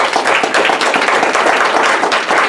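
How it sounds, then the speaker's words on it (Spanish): A church congregation claps together in a steady rhythmic beat, close and fairly loud, with no talking over it. "le aplauso al Señor"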